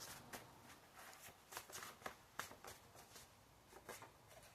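Tarot cards being shuffled in quick repeated riffles and flicks, close and fairly quiet, with no voices.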